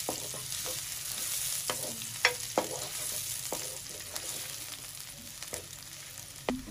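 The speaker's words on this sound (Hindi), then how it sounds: "आधी प्याज चॉप हुई हुई, इसको हम पिंक कर लेंगे।" Chopped onion frying with ginger garlic paste in a pan, a soft steady sizzle broken by scattered clinks and scrapes of stirring, quiet and close with no voices.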